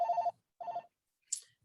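A phone rings in two short trilling bursts, close and fairly loud, followed by a brief high chirp and silence between rings.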